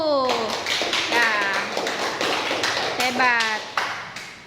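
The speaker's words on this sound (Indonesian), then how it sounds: "kita berikan tepuk tangan dulu untuk kelompok 1" A classroom group claps for a presenting team, short taps and claps sounding under a voice talking with rising and falling pitch across most of the span.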